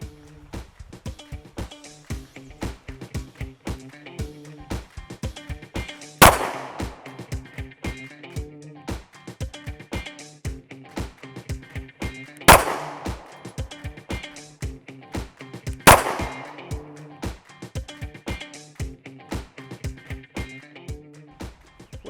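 A Sig P320 X Compact pistol fires 115 grain Barnes TAC XP +P rounds in three sharp, loud shots spaced several seconds apart, heard over steady background music.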